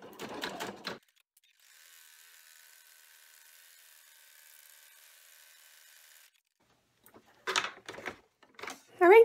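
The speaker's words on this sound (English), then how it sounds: "take it back to the machine and run the final stitch to hold it together" Embroidery machine running the final stitch on a cell phone pouch made in the hoop, a faint steady mechanical whir for several seconds, bracketed by a person talking before and after.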